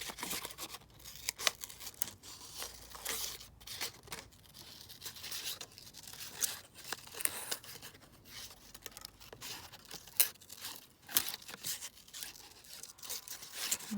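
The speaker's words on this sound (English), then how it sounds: "let me just trim out this." Scissors trim paper for an art journal page, heard as a quiet, close, steady run of snipping and rustling paper with irregular crisp cuts and crinkles, and no talking.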